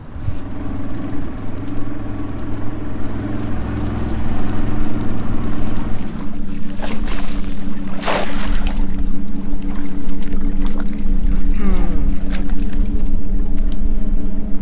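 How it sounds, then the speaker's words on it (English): An outboard boat motor on a shrimping trip runs roughly, unable to idle or go slow, giving a steady loud drone throughout, with a few sharp knocks and splashy bursts partway through. "Motor won't idle or go slow."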